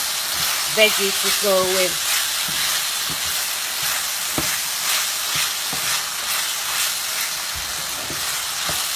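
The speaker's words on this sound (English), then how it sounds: "I'm going to be adding my potatoes" Potatoes go into a pan of frying mince for samosa filling, and a constant loud sizzle and hiss runs throughout with stirring scrapes, while a voice speaks briefly near the start.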